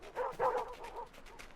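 Dogs bark in the video game Endling: a quick run of short, mid-loud barks and yips, fairly close, with no talking.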